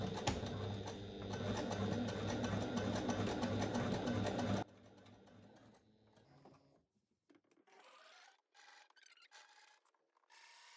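A sewing machine stitches fabric with a stitch length of 3.5 in a loud, steady run for about four and a half seconds. It then drops to quieter, intermittent fabric handling and short bursts of stitching that trail off.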